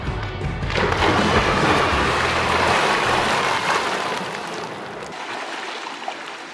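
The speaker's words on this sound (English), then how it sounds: "Whoa, who made a bigger splash?" Children's cannonball jumps into a swimming pool hit with a big whooshing splash that rushes loudly for a few seconds, then falls to a softer wash of settling water before things go quiet.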